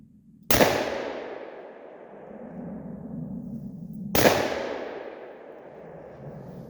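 Two sharp, loud gunshots from a Taurus 651 .357 revolver crack a few seconds apart outdoors, each followed by a long, fading echo.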